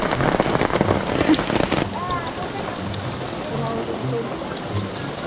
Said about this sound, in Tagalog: basang-basa sa ulan